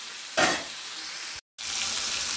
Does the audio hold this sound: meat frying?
yes